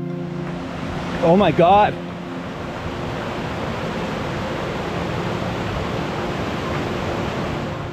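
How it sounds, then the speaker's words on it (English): Waterfalls rushing in Grand Teton National Park, a steady broadband roar of falling water heard throughout, with a brief excited exclamation near the start. "How many waterfalls can there be in one shot?"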